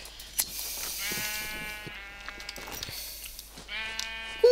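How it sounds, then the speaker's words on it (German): Sheep in the video game Minecraft give several short, wavering bleats, close and clear. Faint background game sounds fill the quiet gaps between them. "Und ich schaue mal zugleich die Schafe, falls wir die Wolle mal noch brauchen."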